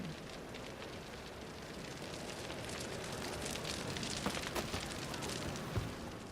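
Crackling fire consuming a wooden shack in the video game The Witcher 3, a steady broadband roar and hiss with scattered pops and snaps, close and continuous throughout.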